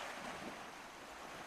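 Waves wash steadily over an Arctic shoreline, a continuous broadband surf wash mixed with wind rumble, fairly quiet and unbroken, with no voices.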